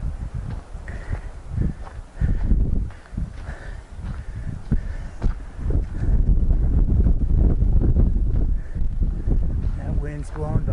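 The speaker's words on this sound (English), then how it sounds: "That wind's blowing behind me." Wind gusts buffet the microphone outdoors at a snowy mountain trailhead used by snowmobiles, a steady low roar with footsteps crunching along and someone talking over it.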